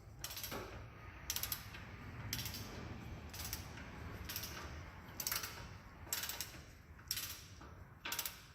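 Rhythmic clicking of a ratchet wrench tightening rear brake bolts on a Ford F-150, eight or so evenly spaced bursts of ratcheting, faint and close, with no talking.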